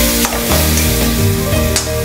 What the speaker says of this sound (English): Now I add in the chopped tomatoes.